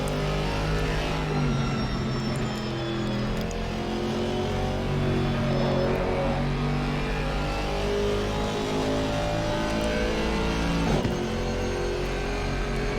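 GT4 race car in a video game at the Kyalami circuit, accelerating hard out of a corner; a loud, steady engine drone rises continuously with no gaps.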